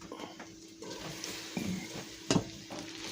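Pasta being stirred in a pan with gravy, sour cream and meat, giving soft scraping and sizzling with a sharper clank of the utensil against the pan partway through, close and moderately quiet.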